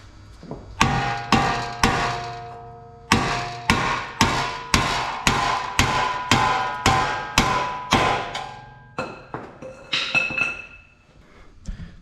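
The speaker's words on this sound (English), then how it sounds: "I started smacking it right here" Steel hammer strikes the dust shield of a front hub assembly on a 2010–2017 Chevy Equinox, about a dozen loud, ringing metallic blows in steady rhythm, close by, followed by a few lighter clinks.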